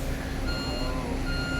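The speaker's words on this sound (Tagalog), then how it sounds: "There is a truck" A truck's reversing alarm beeps steadily and continuously, a high repeating tone over outdoor rumble.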